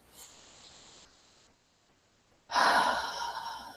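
A deep inhalation during guided breathwork, heard as a loud, airy breath drawn in near the microphone after a quiet pause and sustained to the end.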